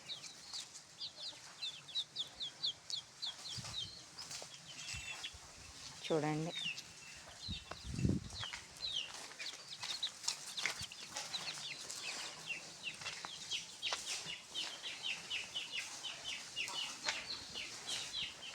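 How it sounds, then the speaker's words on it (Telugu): Chickens cluck and chatter steadily on a dairy farm, a close flock of overlapping calls running throughout, with someone briefly speaking in the middle. "ఇవన్నీ మా కోళ్ళు"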